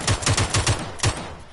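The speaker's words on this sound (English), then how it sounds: "I look for people and I shoot them." Gunfire in a shooting video game: a quick burst of about six sharp, loud shots in close succession, then fading.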